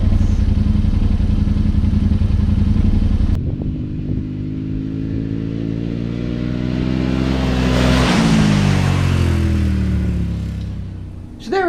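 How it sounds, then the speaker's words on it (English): A Yamaha Wolverine X4 side-by-side accelerates from a standstill in low gear, its engine rising in a loud, steady climbing drone after an initial idle, with a clattering drivetrain and no speech. "We now got the low gear acceleration test from 0 to 25 out of the way"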